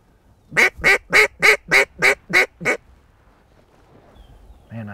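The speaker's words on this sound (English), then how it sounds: "That's a Drake mallard there." A drake mallard gives eight loud, evenly spaced quacks in a steady series on a windless day at a marsh. Near silence follows, with a faint low rumble at the very end.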